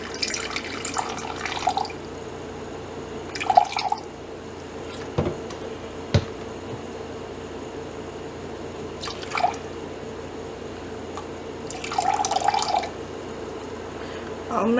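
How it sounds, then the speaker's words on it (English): Distilled water trickles and splashes in several short bursts into a measuring container, fairly close, with a low steady hum behind and a few faint knocks in between. "So I'm going to measure out some distilled water."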